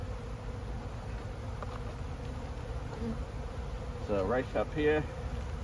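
A busy hive full of bees gives a steady, close, low buzzing hum that continues throughout, with a person speaking briefly over it.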